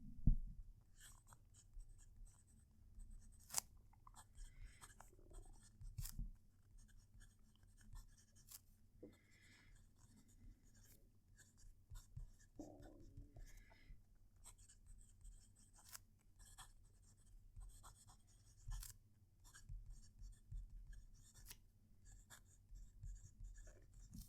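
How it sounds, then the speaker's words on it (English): Fountain pen nib scratching across paper, recorded close up from a Jinhao 100 or Moonman M600s comparison: quiet, continuous scratchy strokes with soft taps and pauses between words, alone without talk. "I'm going to move the mic so it's closer to the paper so you can hear the pen write."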